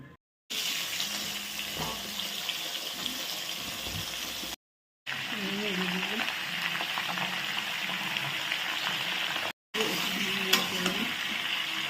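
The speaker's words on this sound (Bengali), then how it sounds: "এই পিঠটা ভাজা হচ্ছে, এই পিঠটা ভাজা হয়ে যাক।" Fish fries in a pan with a dense, steady sizzle and spatter. It runs in three stretches split by short silent cuts, and faint scraping or turning sounds come through.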